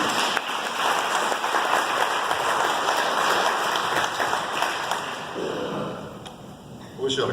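Sustained audience applause fills a campaign speech venue, a dense steady wash of clapping that holds for several seconds before thinning and tapering off near the end.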